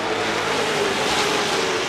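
Race cars roar past on the track at Seven Rivers Racing, a dense, continuous engine drone close and loud throughout with no talk over it.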